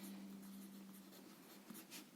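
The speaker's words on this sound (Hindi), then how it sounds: "तो इसे लिखेंगे हम मुसाफिर" A pen scratches across paper in short, faint strokes, close and alone over a soft background hum, as words are written out during a school Hindi lesson.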